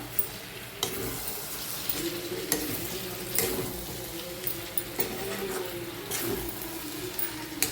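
Cooked brinjal masala being stirred in a pan for a Maharashtrian-style vegetable dish, a spoon scraping in steady strokes with a few sharper knocks against the metal over a soft continuous sizzle, close and alone.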